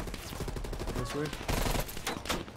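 Bursts of rapid automatic gunfire in the Black Ops Cold War campaign, loud and dense, with a voice speaking briefly amid the shooting.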